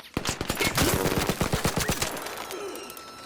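Rapid automatic gunfire in the video game ARC Raiders, a dense burst of sharp repeated shots lasting about two seconds, then trailing off into quieter echoes and a faint tail.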